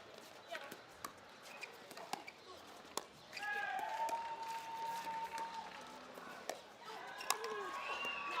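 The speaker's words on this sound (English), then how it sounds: "Listen to the crowd." Spectators cheer and clap at the European Pickleball Championships women's doubles final in Rome, opening with sharp paddle hits and scattered claps, then swelling into a sustained crowd roar with whistles, while a commentator speaks over it.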